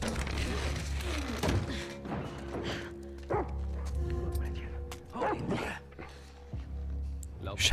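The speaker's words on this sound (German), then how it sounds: "Hunde." Dogs barking in The Last of Us Part II, several short barks and yips at middle distance, while voices talk over the game sounds.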